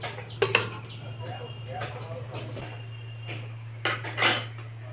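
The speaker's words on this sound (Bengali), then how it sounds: "এবার আমি ঢাকাটাকে খুলে দিচ্ছি" A lid is lifted off a pot of potatoes boiling on a home stove, giving a couple of short metallic clinks near the start and another clatter near the end over a low steady hum.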